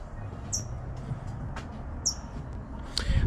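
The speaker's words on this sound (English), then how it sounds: "You guys hear the bird? It's chirping again." Two short, high bird chirps about a second and a half apart, faint over a low rumbling background with a few soft knocks.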